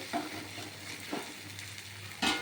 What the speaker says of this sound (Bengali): দেখবেন সুন্দর একটা চিংড়ি মাছ ভাজার গন্ধ বেরিয়ে গেছে